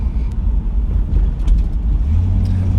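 A 1966 Ford Mustang with a 289 V8 idles outdoors, its exhaust giving a steady deep rumble close by, with a slight swell in the low burble near the end and no talking.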